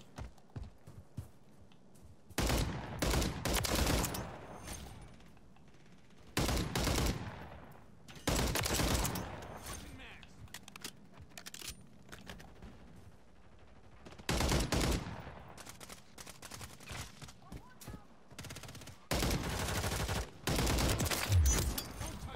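Gunfire in a first-person shooter video game comes in loud bursts of rapid automatic shots, repeated several times with short quieter gaps between volleys.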